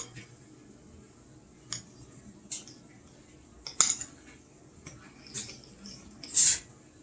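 Deviled egg filling is mixed in a bowl with a utensil, giving sparse clinks and soft squishing taps at irregular intervals over a quiet background.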